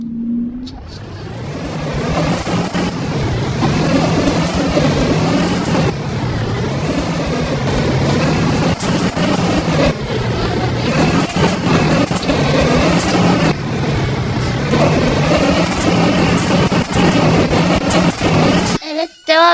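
A Bugatti car engine in a video game roars loud and close, a sustained rumbling drone with revving surges that runs for nearly twenty seconds before cutting off abruptly.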